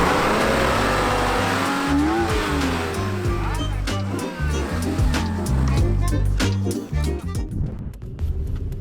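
BMW E36 M3 engine running loud and close with rising revs, a steady low rumble and harmonic sweeps, with voices talking over it at times.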